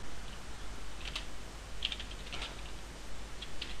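Typing on a computer keyboard while writing code for an Android Processing tutorial on 3D texturing, heard as a few scattered faint clicks over steady background hiss, with no talking.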